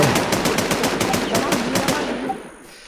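Rapid automatic gunfire from the online survival shooter Infestation, firing in steady repeated bursts for over two seconds before cutting off into quiet.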